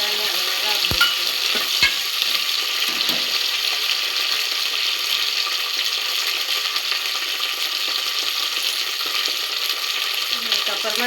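Green peas stir-frying in a pan for ghee rice, a steady close sizzle throughout with a few scraping clinks of a spoon against the pan early on.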